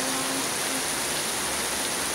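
Heavy April rain pours down as a dense, continuous hiss, steady and loud throughout.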